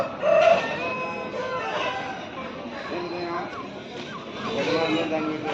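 Chickens and a rooster at a Sunday poultry market in Pileru, a loud crow near the start followed by scattered clucking amid ongoing chatter and nearby talk of people bargaining.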